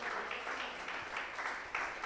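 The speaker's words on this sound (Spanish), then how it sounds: "Denle un aplauso al Señor" A church congregation applauds during a Sunday sermon, steady sustained clapping from many hands filling the room with no voices over it.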